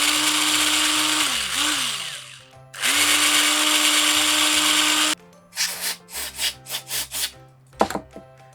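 A drill bores a 2.5 mm hole through a red RC car axle housing part, loud high whines that dip as the bit bites, followed by a series of short stuttering bursts.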